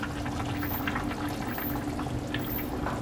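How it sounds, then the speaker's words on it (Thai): Fish sauce poured into a simmering Thai curry with soft pork rib bones, a steady watery pour with a continuous close liquid wash and no talk. "หลังจากนั้นก็ตามด้วยน้ำปลานะครับ"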